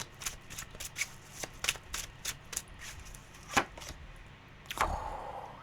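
Tarot cards being shuffled at a love reading, a run of quick papery riffles and taps in an irregular rhythm with a louder flurry near the end, close and fairly quiet, no talk.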